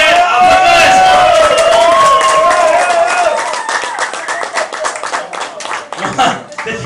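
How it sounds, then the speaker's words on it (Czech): Applause at a team competition evening in a spa restaurant in Kralice na Hané. Dense, close clapping carries through the clip, with a voice or tonal sound over it in the first half before the clapping thins toward the end. "Gratulujeme a potlesk!"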